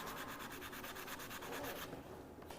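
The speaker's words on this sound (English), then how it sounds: "I'm just going to give it a little sand while I'm waiting for that one to be done" Wood being sanded by hand with a sanding block gives close, rhythmic back-and-forth rubbing strokes, about seven quick passes, then a smoother scrape, steady and alone.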